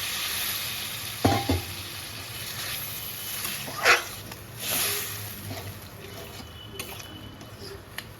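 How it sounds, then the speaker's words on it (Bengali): Water splashes into pointed gourd and spices frying in a pan, bringing a few sudden bursts of hissing over a steady sizzle, with occasional stirring scrapes. "এবার আমি পরিমাণ মতো জল দিয়ে দিচ্ছি"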